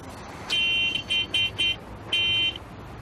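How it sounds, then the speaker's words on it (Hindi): A car horn honks in a series of short blasts, one long, three quick, then another long, fairly close over faint background noise. "ये हॉर्न, इसको भी यहीं बजाना है।"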